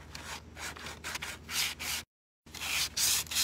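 Close, rhythmic sanding strokes rasp back and forth in bursts, with a brief silent pause in the middle before the scraping resumes.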